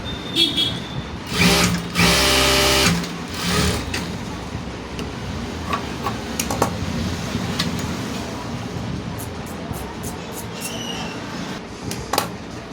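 A sewing machine stitches a blouse patti, with a loud burst of rapid mechanical running near the start, then quieter intermittent clicks and handling noise.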